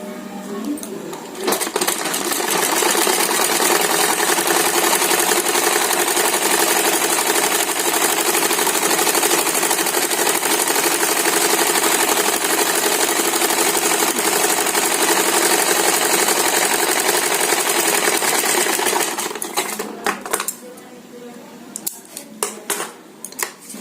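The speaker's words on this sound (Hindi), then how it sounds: "तो पहले इसको चाप सिलाई लगाते हैं।" An electric sewing machine runs steadily for about eighteen seconds, stitching a suit made from an old saree, then stops with a few scattered clicks and handling sounds.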